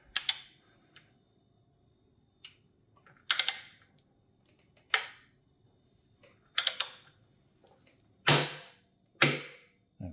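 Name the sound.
tightening BBSHD motor mount on fatbike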